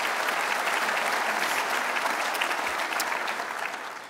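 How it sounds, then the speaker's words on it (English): An audience at a university lecture applauds warmly and continuously, with a dense, even wash of clapping that holds steady throughout and eases slightly at the end. "let's hold our applause because I'm going to go through a whole list of folks"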